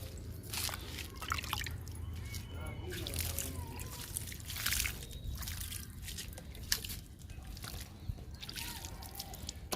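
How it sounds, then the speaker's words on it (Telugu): Water drips and trickles in irregular splashes as garden plants, including table roses and Song of India, are watered, with faint speech underneath and soft background noise. "మూడు రకాల మొక్కలకి వాటర్ ఇచ్చేద్దాము"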